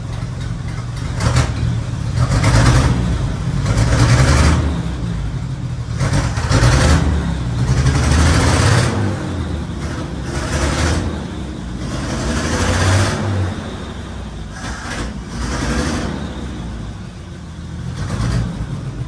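A car engine with newly installed cut-to-fit spark plug wires, running rich, revs repeatedly in several throttle blips that rise and fall over a steady idle, loud and close.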